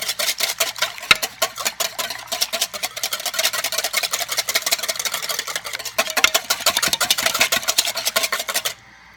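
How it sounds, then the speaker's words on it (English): Wet ingredients for a chocolate peanut butter layer cake are whisked in a bowl, a close, rapid, steady scraping rhythm that runs for about nine seconds before stopping abruptly. "we're just whisking the wet ingredients together"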